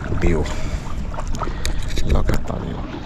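A boat moves through water with lapping and rumbling sounds, while people talk nearby.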